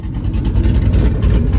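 A C6 Corvette with an LS3 V8 holding revs on a two-step launch control on a back road, loud, close, rough and sustained, with rapid crackling pulses through the exhaust.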